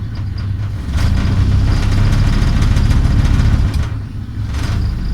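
An owner-type Jeep engine revs up close and loud, a rough low rumble that swells into a sustained higher-revving drone, then drops back toward idle before briefly rising again.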